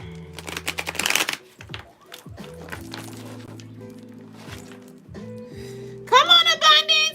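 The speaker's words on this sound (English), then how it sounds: "Why am I trying to shuffle this big deck like this?" A big deck of cards is shuffled by hand in quick riffling bursts, with a steady background hum running beneath, near and moderately loud; a voice speaks briefly over it.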